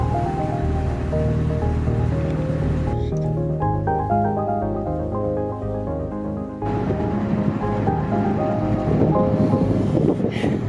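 A narrowboat engine chugs steadily underway with a low throbbing drone, wind buffeting the microphone over it, continuous and fairly loud throughout.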